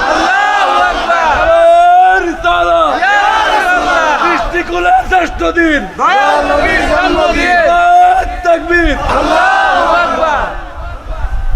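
A large crowd at a Bengali Islamic sermon for Eid-e-Milad-un-Nabi shouts the takbir in loud, rhythmic unison, repeated several times in swelling waves of voices.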